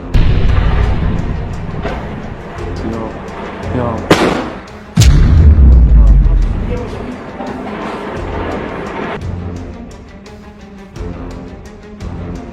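Combat in Gaza between IDF soldiers and Al Qassam fighters: sharp gunshots and heavy explosive blasts ring out amid continuous loud rumbling and noise, with a narrating voice talking over it.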